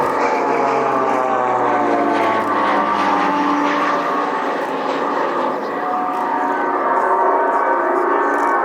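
A Swiss Pilatus PC-7 team soloist, a propeller trainer aircraft at the Air Tattoo air show, roars past close and loud with a steady engine drone whose pitch slides downward as it passes.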